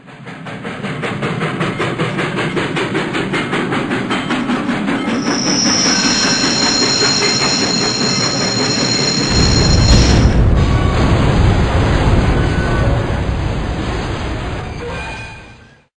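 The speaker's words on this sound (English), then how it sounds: "The train sound started in the upstage speakers and gradually, in time with the visual, moved closer to the audience before coming to its explosive end in all speakers" Theatre train sound effect played through speakers, a loud rumbling, squealing approach that builds steadily closer before a heavy, booming explosive end that lingers and fades.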